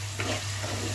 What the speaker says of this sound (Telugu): చికెన్ ఉడుకుతూ ఉంది, బాగా సాఫ్ట్గా ఉడకాలన్నమాట.